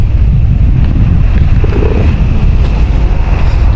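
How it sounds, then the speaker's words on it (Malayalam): A loud, unbroken gusty roar of wind hits the microphone at the Kalyanipara hilltop viewpoint in Idukki, steady throughout with no speech. "നല്ല കാറ്റുണ്ട്, അതാണ് എടുത്തു പറയേണ്ട കാര്യം."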